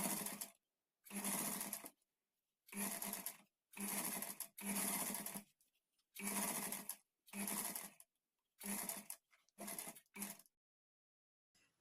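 A sewing machine stitches piping cloth onto a blouse back neck in short, loud bursts of whirring, each lasting about a second, broken by brief quiet pauses.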